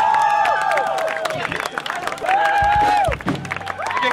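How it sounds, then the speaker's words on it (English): At a lively youth gathering, a crowd claps and cheers loudly, with whooping voices rising and falling over the clapping and bursts of crowd babble in between. "Give me a round of applause."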